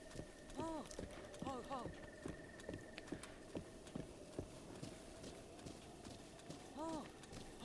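Horse hooves clip-clop in The Legend of Zelda: Breath of the Wild in a steady, close rhythm, with occasional whinnies and a voice talking over the hoofbeats.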